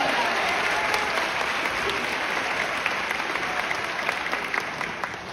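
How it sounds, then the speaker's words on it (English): An audience at a high school choir concert claps continuously, a broad wash of applause that holds steady and slowly fades toward the end. "How about a round of applause for that?"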